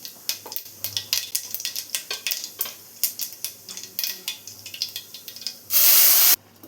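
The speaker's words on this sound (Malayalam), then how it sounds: "വേവിച്ച് വെച്ച് ചെറുപയർ ഇതിൽ ചേർത്ത് കൊടുക്കാം." Cooked green gram being added to a hot pan of oil with popped mustard seeds for a milk-based green gram curry, heard as a run of close, crisp clinks and scrapes of utensil on pan, with a short loud burst of spray-like hiss near the end.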